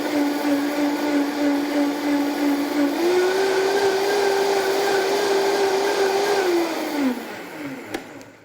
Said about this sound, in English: we're going to blend this and then start adding our oil to emulsify